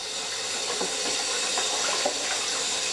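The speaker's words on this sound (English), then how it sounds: "Once you give them a good rinse under tap, then they're ready for use." Wild raspberries are rinsed under a running kitchen tap, giving a steady, close, even rush of water that lasts the whole time, with no voices.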